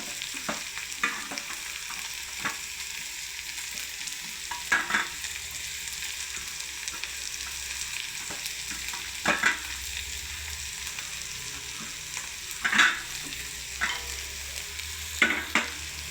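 Mustard seeds splutter and pop in hot oil for a carrot thoran, a steady faint sizzle broken by scattered sharp crackles, with no voices.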